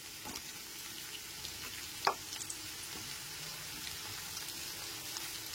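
Potato pieces and chopped onion fry in oil over a medium gas flame, a soft, steady crackle and sizzle with one sharper pop midway, heard close and alone.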